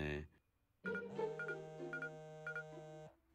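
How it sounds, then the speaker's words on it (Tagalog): A phone chimes with a text message alert, a sustained bright electronic tone with repeated short pips over it lasting a couple of seconds, framed by brief spoken words before and after. "Ay, teka lang, Tay. May nag-text."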